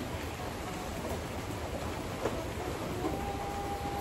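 Rain falls steadily as an even, close wash of patter that holds at one level all the way through, with a faint tonal hum entering late.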